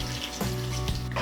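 Water poured into a pan of adobong manok chicken with lemongrass, a brief splashing rush with a faint sizzle underneath, close and short.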